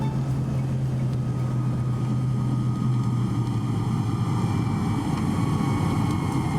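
A fixed-wing airplane touches down on a runway at a small airport beside the coastal town of Baubau, Indonesia, its engines a steady, droning roar holding evenly throughout with no talking.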